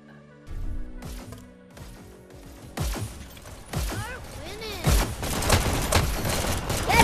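Gunfire in the VR shooter Hyper Dash, scattered shots and impacts that grow denser and louder toward the end, mixed with game effects and some talk.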